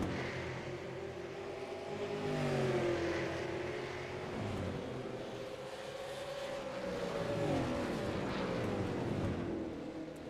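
Race car engines in a sim racing game, a weekly late-model racing series, droning steadily for about ten seconds with overlapping pitch sweeps as cars pass and swell, fairly loud and without talk.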